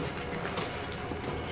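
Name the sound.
train passing in the distance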